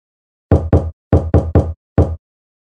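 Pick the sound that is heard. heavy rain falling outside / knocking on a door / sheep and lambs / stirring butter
knocking on a door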